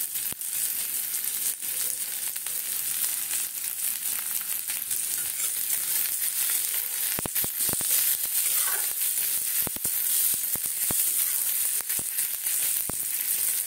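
A pinch of asafoetida sizzles in a small amount of oil for onion-coriander paratha, giving a continuous close hiss with scattered crackling pops and a few sharp ticks.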